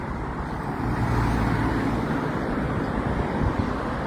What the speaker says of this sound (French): Je sais pas si vous constatez les véhicules qui passent.